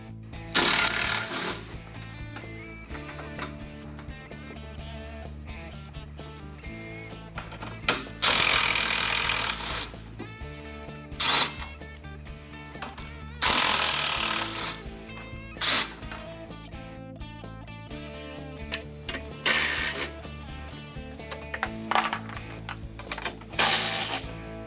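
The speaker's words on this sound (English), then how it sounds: "Now we'll remove the 2 bolts holding down the seat hinge and the bolt in the back holding down the rear body" A power tool backs out bolts holding the seat hinge and rear body of an EZGO RXV golf cart. It fires in several sharp, loud bursts of varying length, with irregular gaps and clanks between them.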